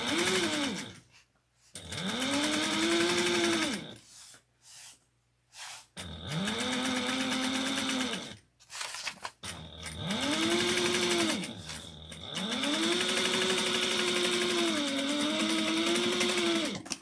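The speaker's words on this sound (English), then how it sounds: "we're going to sew this at 1/4 of an inch" A sewing machine stitches a quarter-inch seam in several long, steady motor runs separated by short pauses, close and fairly loud, with no talking.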